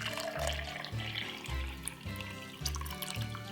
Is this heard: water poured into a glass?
yes